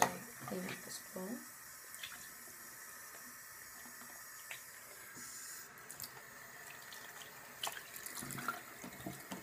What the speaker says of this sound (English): I'm going to actually clean out this bowl